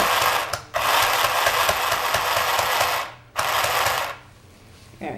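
A sewing machine stitching fabric for an Alice costume, running in loud, steady bursts with a brief stop, a longer run, then a pause before starting again.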